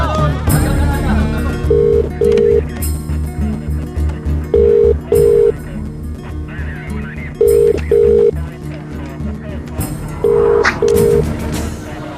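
Telephone keypad tones beep in short pairs, repeated about four times at steady intervals, loud over a busy film scene with voices and background sound.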